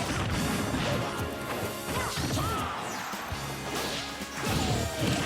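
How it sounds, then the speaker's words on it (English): An Arc Thunder attack strikes Rosalina in a Super Smash Bros doubles match, with loud crashing hits and swooshing impacts packed densely together amid constant game sound effects. "Rosalina running directly into that Arc Thunder. Just charges headlong into it."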